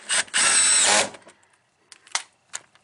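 A power drill whirs loudly in two bursts near the start while working on a 2013 Camaro's body panels, then a few short, quieter mechanical buzzes and clicks follow.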